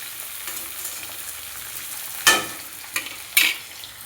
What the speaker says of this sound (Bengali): এবার দিয়ে দিলাম ঝিঙে আলু কেটে রেখেছি, দিয়ে দিলাম। ভালো করে ভেজে এলে